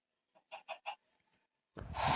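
A Minecraft chicken gives three quick, close clucks in a short rhythmic burst, followed by a brief pause and then a sudden rush of broad game noise.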